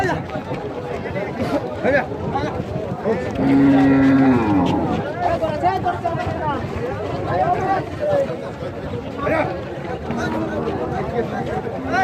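Cattle moo loudly and close by at a large Bangladeshi cattle market selling local bulls, one long low call standing out over a busy crowd with people chattering throughout.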